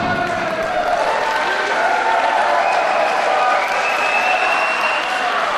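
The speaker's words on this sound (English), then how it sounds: "The crowd appreciating the antics of Madman Manson here tonight at the SFX." Wrestling crowd at the SFX cheering and applauding, a dense, sustained roar of claps and voices filling the hall steadily throughout.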